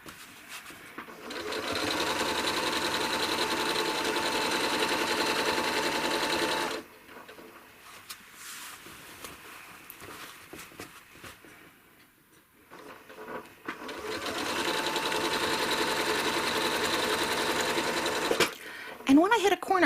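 A sewing machine stitches a quilt at slightly above medium speed, a dense steady whirring buzz in two long bursts with a quieter pause between, near and loud, followed by faint handling noises.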